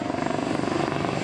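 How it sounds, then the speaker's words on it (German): An Airbus EC145 T2 helicopter with twin Arriel 2E turboshaft engines and a shrouded Fenestron tail rotor flies by, giving a loud, steady turbine whine over a rapid, even rotor throb. "Not only a very quiet, but a very safe helicopter this, powered by a pair of Ariel 2E turboshaft engines"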